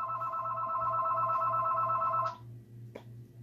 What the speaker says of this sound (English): Sorry about the phone turning it off.